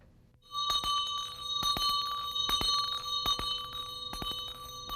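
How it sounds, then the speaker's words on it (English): A church bell rings repeatedly in a steady rhythm, calling to worship, each clear metallic strike leaving a sustained ringing tone that overlaps the next. "The sound of the bell carries a long ways,"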